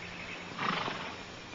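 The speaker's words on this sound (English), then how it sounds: "Beautiful horse." A horse whinnies in a classic drama film, a broad, moderately loud call rising from a quiet background for about a second before fading.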